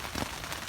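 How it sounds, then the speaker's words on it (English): Steady rain patters at a campsite in the early morning dark, a dense, even wash of drops on surfaces with no talk, continuous through the short moment. "It has been raining. I don't know if you can hear it."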